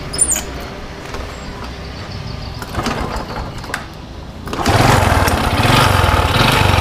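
Honda Supra 125 motorcycle engine idling with a rattling, chain-like mechanical noise, close up; quieter ambient rumble first, then the engine catches and runs steadily louder with a pulsing rattle.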